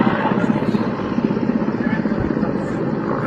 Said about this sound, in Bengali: আর হেলিকপ্টার দিয়ে কয়েকটা হেলিকপ্টার পুরো ঘেরাও করে ফেলছে